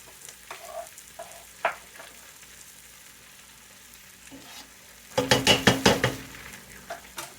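Rough-chopped green and red peppers hit a hot gumbo pot with kale, a loud sizzling burst flaring up for about a second after a quiet stretch of faint kitchen noise.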